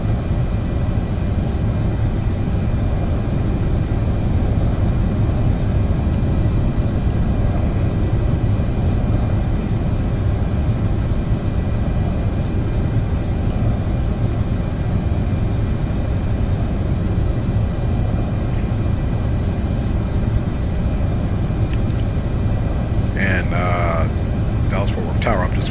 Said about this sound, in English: Waiting for this Delta aircraft to taxi in front of me